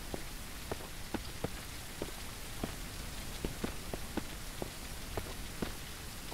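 Steady rain in the survival video game Mist Survival hisses as a dense, even wash, with scattered individual drops ticking sharply on hard surfaces throughout; no one speaks.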